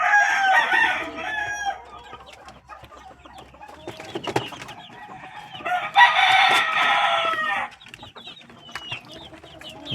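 Grown chicks of unknown breed cluck and call in bursts while a rooster crows loudly, fairly close by, with two strong stretches of crowing and busy fowl sounds between them and no talking.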